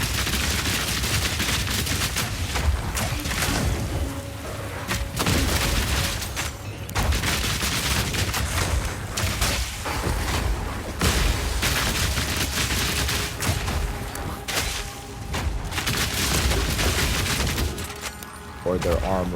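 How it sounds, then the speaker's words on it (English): Poison grenade explosions in the Path of Exile 2 action game, a dense, loud barrage of repeated bursts and booming detonations with game effects, continuing for about twenty seconds under a speaking voice. "So many things will trigger that explosion with the poison grenade."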